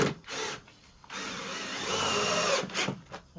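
A power tool drives a screw down into a wooden beam beneath a dance floor, whirring loudly up close in bursts, with short pauses between runs.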